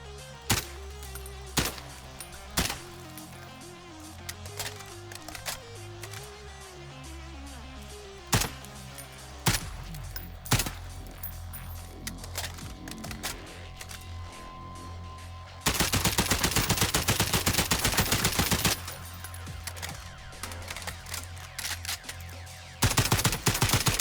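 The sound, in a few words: FAL rifle gunfire in Call of Duty Warzone video game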